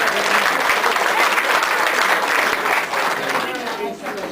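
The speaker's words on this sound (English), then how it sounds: "How about a round of applause for Jane and for Rodney?" A room full of audience members breaks into sustained, dense applause, the clapping loud and steady throughout before tapering slightly at the end.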